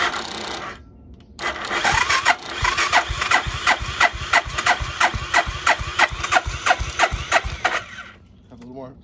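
A Suzuki Savage 650 motorcycle engine cranks in a fast, even series of chugging pulses, loud and close, before sputtering briefly and falling quiet.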